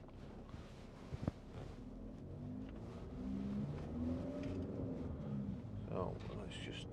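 Cars pass a parked Skoda Yeti 2.0 TDI 4WD on the road, a steady low engine and tyre rumble that swells as they go by, with a faint background throughout.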